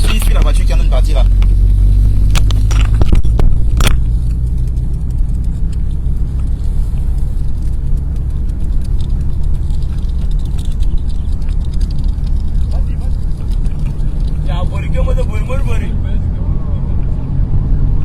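A 4x4 rumbles along, following the Cameroon national football team's departure from Abidjan toward Bouaké at the 2023 Africa Cup of Nations; the engine drones loud and close throughout while people talk over it.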